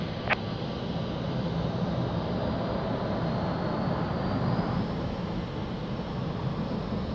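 Ryanair airliner taking off from runway 02 at Lisbon Airport, a sustained roaring jet engine wash that swells slightly midway, heard from a distance, with a brief sharp click near the start and no voices.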